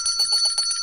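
A brief, bright bell rings with sustained high metallic tones over a faint murmur of background voices, lasting under a second.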